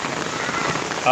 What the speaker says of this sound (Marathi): आज छत्रपती संभाजीनगर जाधववाडीमध्ये मस्त पाऊस चालू झालेला आहे